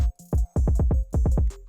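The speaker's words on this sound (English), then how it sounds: "The kick I used is something called Best Kick" A kick drum sample named Best Kick from a hyperpop glitchcore production kit, heard as a quick run of punchy, booming hits with short decaying tails, mixed with some higher tonal sounds, loud and with no talking.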